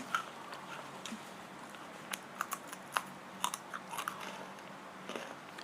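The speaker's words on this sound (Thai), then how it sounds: "กินไปเรื่อยๆ ก็เคี้ยวระวังอยู่นะคะ" Quiet, close chewing of food while eating, by someone wearing braces who chews gently, a scattering of soft irregular crunches and bites over a near-silent background.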